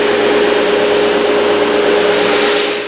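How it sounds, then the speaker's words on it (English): Thickness sander running a book-matched maple guitar top, a loud continuous motor hum with a steady tonal whine and broadband rushing noise, constant throughout and tapering slightly at the end. "So let's run this through the thickness sander and wrap it up."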